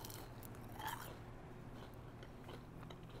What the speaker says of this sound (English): and just listen to this crunch.